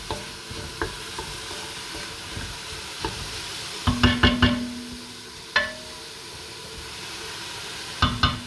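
Onions for a soupe au pistou sizzle steadily in a pot, starting to turn translucent, with a spoon scraping and clacking against the pot in several sharp bursts over the continuous frying hiss.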